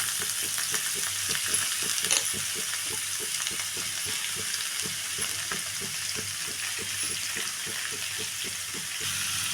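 Washed beetroot frying in a pan for a home-style palya, a moderate steady sizzle with a soft repeated ticking rhythm of stirring, no talking.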